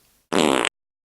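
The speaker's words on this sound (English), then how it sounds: "The distinctive sound of a bottom burp." A single short, loud, buzzy fart lasting under half a second, sharply cut off, with silence before and after.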